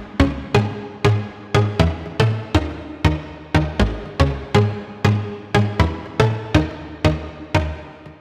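Synth bass made in FL Studio, a steady pulsing pattern of punchy plucked notes with quick decays repeating in a driving rhythm, heard clean and alone.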